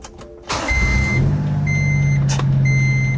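A Honda Acty mini truck's small engine cranks and catches after a brief pause, settling into a steady close idle, with a few thin electronic beeps chiming over it.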